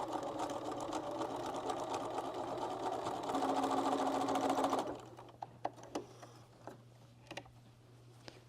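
A sewing machine runs in a steady, close mechanical whir while stitching a seam on a nine patch quilt block. It stops after about five seconds, leaving scattered clicks and fabric handling.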